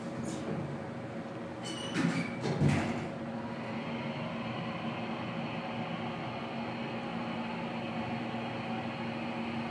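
A Republic hydraulic scenic elevator door slides shut at Cabrillo College with a few clunks and a rattle near the start, followed by a steady mechanical hum.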